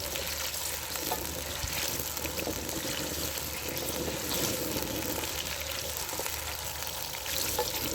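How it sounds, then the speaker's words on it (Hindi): Potato and aubergine pieces fry in oil for aloo baingan, a steady, even sizzle that holds close and constant throughout with no talking. "इसको थोड़ा सा बस फ्राई करना है।"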